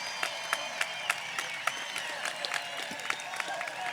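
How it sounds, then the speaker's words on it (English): A high school graduation crowd applauds outdoors, a steady wash of clapping with individual sharp claps standing out, moderately distant and continuing throughout. "Wait for the applause."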